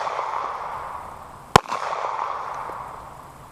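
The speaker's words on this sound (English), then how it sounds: "full metal jacket, fired from a Sig Sauer P238" A single sharp gunshot from a Sig Sauer P238 handgun firing .380 full metal jacket ammunition, one loud close crack with a brief echo over steady outdoor background noise.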